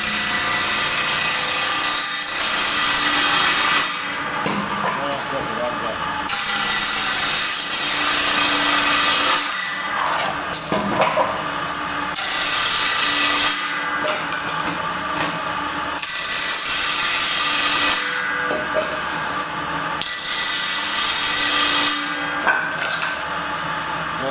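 A saw blade cuts through wood in repeated passes, each a loud sustained rasping grind broken by short pauses and the clatter of handling between cuts.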